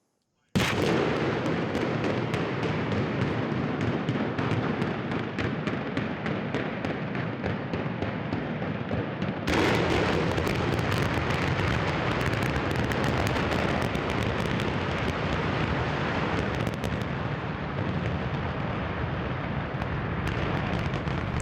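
Demolition blast set off right after a countdown, a sustained loud roaring rumble that fills the whole clip, with a sharp surge partway through as the debris roar intensifies.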